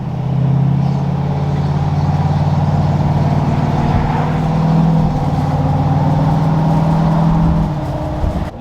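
A 6.7 Powerstroke diesel truck with a straight-piped exhaust, heard from inside the cab with the windows cracked while driving, a loud, deep, steady drone with a low throbbing rumble that holds evenly throughout.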